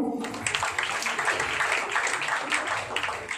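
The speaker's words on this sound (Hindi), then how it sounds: "हाँ, स्वप्निल के लिए ताली बजाए" A small group claps steadily and evenly for Swapnil at a family gathering, a continuous soft patter of hands with no voices standing out.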